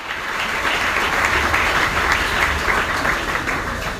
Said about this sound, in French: Acclamons un peu pour le Seigneur.